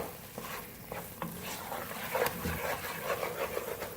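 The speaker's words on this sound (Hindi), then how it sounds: "साथ साथ चम्मच चलाते जाएंगे।" A spoon stirs chana dal halwa in ghee, giving soft, irregular scraping and light sizzling strokes, close and fairly quiet, with no voices.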